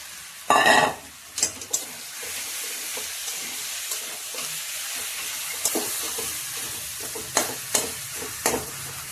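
Fish heads drop into hot oil in a pan for mocha ghonto, a loud initial sizzle burst followed by a steady low frying hiss, punctuated by occasional stirring scrapes and clinks.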